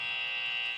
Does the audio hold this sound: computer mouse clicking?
no